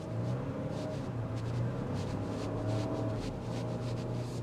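A 2025 Ford Ranger Lariat pickup truck under way, heard as a steady, fairly quiet engine and road hum from inside, with no rise or fall and no talking.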